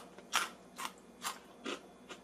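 Five sharp crunches from biting into crispy air-fried skinny fries, each a brief crackly burst spaced about half a second apart, close and fairly quiet with no talking.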